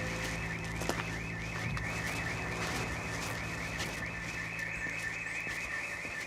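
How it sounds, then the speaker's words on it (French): House burglar alarm going off during a suspected break-in, a loud continuous warbling siren that repeats in a fast, steady cycle, heard alone and at constant volume throughout. "L'alarme qui s'est déclenchée"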